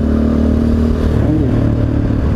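A motorcycle with two riders follows close behind on a Rio de Janeiro street, its engine a loud, steady mid-pitched drone with a slight rise in revs.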